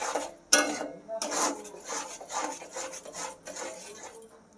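A spatula rubs and scrapes against a pan while brinjal is stirred and sautéed with yogurt, a continuous close gritty scraping in uneven strokes, with a voice faintly present.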